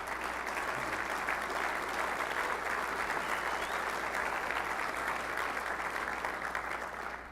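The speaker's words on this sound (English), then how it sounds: "Put your hands together. Give yourself some applause." Keynote audience at a corporate event giving sustained applause, a thick, even wash of many hands clapping at a constant level throughout, heard from some distance.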